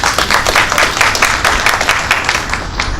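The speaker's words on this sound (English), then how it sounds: "You should wait until I'm done before you clap" Audience applause fills a school district bond information meeting in Karnes City, steady and dense clapping from a crowd of many hands, sustained at a fairly loud level throughout.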